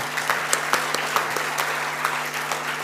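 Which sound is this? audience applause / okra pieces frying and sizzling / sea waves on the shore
audience applause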